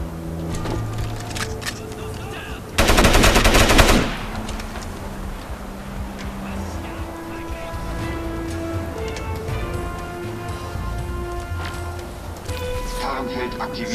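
Gunfire in the first-person shooter game Crysis, with a loud dense burst of automatic fire in the early seconds followed by scattered shots and battle noise as someone talks over it in German.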